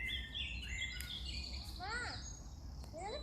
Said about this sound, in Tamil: பறவைகளோட சத்தங்கள் நல்லா இருக்குது.